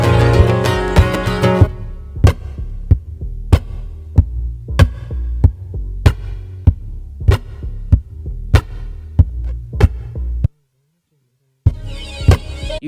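A guitar looper pedal plays back two layered tracks of the song: a strummed burst opens, then evenly spaced percussive body taps thump in a steady pulse, a short silent gap falls, and strumming returns at the end.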